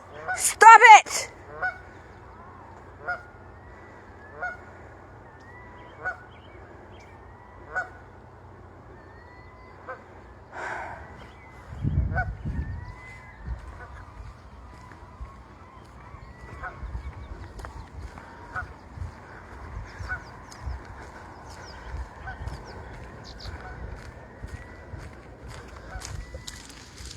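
Geese with their goslings honk in a series of repeated calls spaced across the scene, some louder and some farther off, with a thump of rocks and a brief shuffle partway through.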